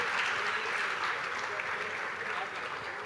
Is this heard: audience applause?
yes